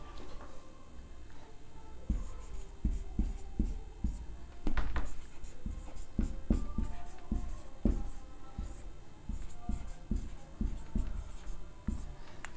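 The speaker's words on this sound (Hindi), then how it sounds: "इधर लिख देता हूँ।" Marker or chalk tapping and scratching across a board during a classroom lesson, a steady run of short strokes and taps, close and fairly loud, with no talk over it.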